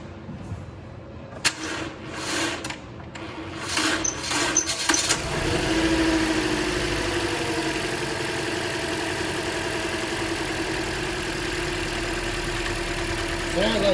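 A misfiring car engine with a weak battery cranks in several short, labored bursts, then catches and settles into a steady, rough idle that continues to the end.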